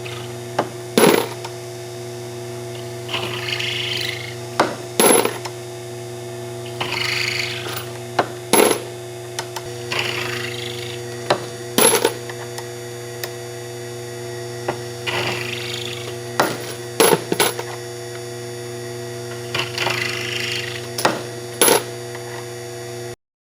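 A Henderson Precision Gen II powered case trimmer works rifle brass on a reloading bench: a steady mains-like hum runs throughout, broken by repeated sharp metallic clinks and short whirring bursts of trimming, with no talk.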